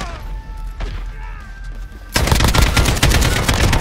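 Rapid automatic gunfire from a gold AK rifle in a video game bursts in loudly and continuously after a quieter opening with faint game sounds and tones.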